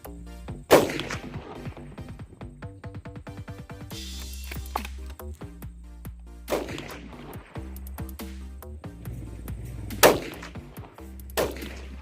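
A Howa rifle chambered in 6.5 Creedmoor fires several sharp, loud shots spaced seconds apart, each crack followed by a brief ringing echo and quieter gaps between.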